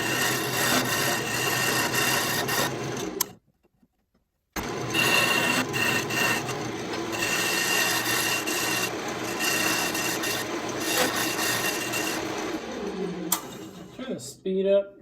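Wood turning on a lathe, a log being shaped into an Elder Wand: steady, loud scraping and rasping of the cutting tool against spinning wood, briefly stopping near the start before resuming and tapering off at the end.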